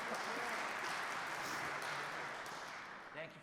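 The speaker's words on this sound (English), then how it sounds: "Lots of clapping, though." Audience applause at a morning monthly program welcoming a high school jazz band, a dense wash of clapping that holds steady, then thins and fades toward the end with faint voices mixed in.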